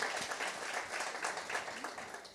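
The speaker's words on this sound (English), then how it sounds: "A round of applause." Audience applause at a township entrepreneurs' event in Motherwell: steady, dense clapping from a crowd that holds through the whole stretch, fairly quiet and distant, with no one speaking over it.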